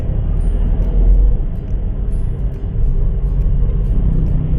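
A car engine labours and revs while climbing an uphill slope: a loud, continuous low rumble that swells and dips slightly, close to the cabin, with no voices.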